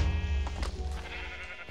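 Sheep in the Minecraft video game give a short, fairly faint bleat inside a player's house, with no talking over it.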